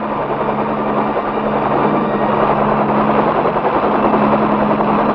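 Military attack helicopter from the Vietnam War era airmobile forces: a loud, steady rotor and engine drone with a continuous throbbing beat, close and unbroken, with no voices.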